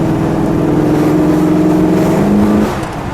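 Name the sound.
426 Hemi 1969 Dodge Charger Daytona accelerating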